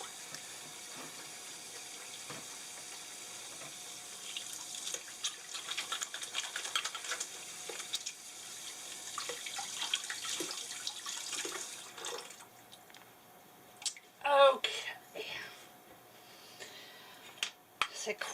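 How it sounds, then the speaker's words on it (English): Hands washed under a running tap in an RV kitchen, a faint steady water rush with splashing and rubbing that grows louder toward the end, with some quiet talking. "let me wash my hands here."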